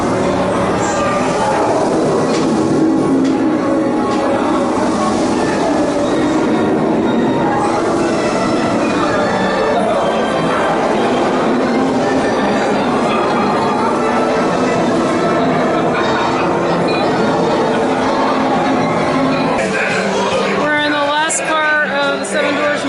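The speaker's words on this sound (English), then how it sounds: "the Dwarfs Mine Train. It's the wildest ride in the mine." Seven Dwarfs Mine Train roller coaster at Magic Kingdom, a steady loud rumble of rolling cars and rattling track running throughout, with squeals and faint voices mixed in near the end.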